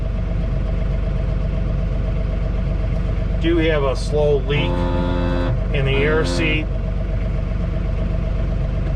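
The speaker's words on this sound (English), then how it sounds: "Try to let the tractor idle down." A John Deere 3046R tractor idling inside its cab in a garage during a blizzard, the engine giving a steady low hum throughout while someone talks over it.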